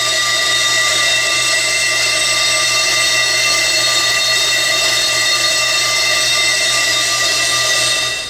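A brake lathe resurfaces a Toyota Scion tC rear brake rotor with a steady, loud machining whine and high metallic ringing tones, running evenly and alone throughout before trailing off at the end.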